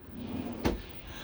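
A kitchen drawer below a two-burner hob in a compact motorhome slides shut with one quick soft thump, alone against a quiet room.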